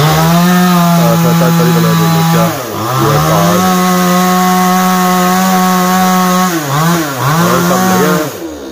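A motor saw, with the drone of a chainsaw, cuts through wood in a house courtyard. The loud, steady buzz is close, with brief dips in pitch as the blade bites into the wood.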